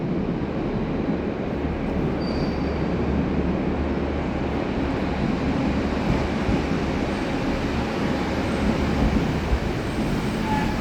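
An LNER train running through a station on the Morpeth line gives a steady, loud rumble with a low mechanical drone that stays constant, with no voices over it.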